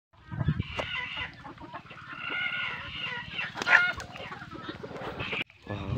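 Hens in a large poultry house cluck and murmur steadily at close range, with a rising squawk partway through and a short break near the end.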